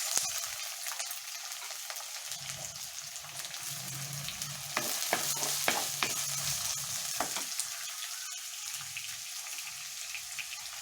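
Long-sliced green chillies and onions frying in a pan for tomato bath, a steady sizzle with intermittent stirring scrapes, close and continuous with no talk.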